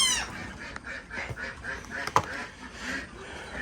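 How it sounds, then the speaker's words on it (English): Ducks quack repeatedly in a noisy, overlapping chorus, close by and fairly loud, with a sharp clank partway through. "if you have ducks, you'll understand why those are quacking"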